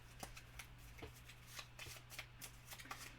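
Parks board game cards being shuffled by hand at a table, quiet soft riffling and sliding with repeated crisp flicks over a steady low hum.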